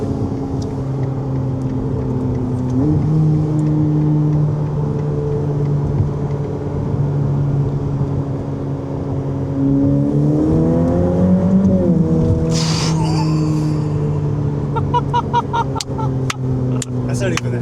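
Ferrari engine heard from the cabin at light throttle, a loud, steady low drone that rises in pitch as it gains revs, with a few short sharp noises near the end.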